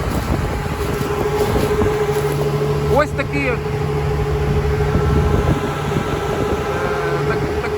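A Sich 6 Pro no-till seeder from Remsyntez sowing wheat gives off a steady mechanical drone with a constant tonal hum, while someone speaks briefly over it.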